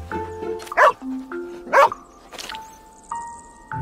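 Cartoon dog barks twice in a children's animated program about telling time, sharp and close, between melodic tones and chimes with no voices.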